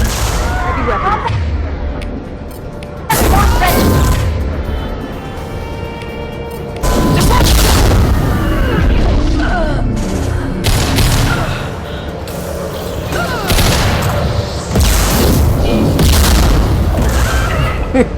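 Heavy weapon in the video game Mass Effect 2 firing and exploding: several loud booming blasts and crashes follow one another amid combat noise, with someone talking over them.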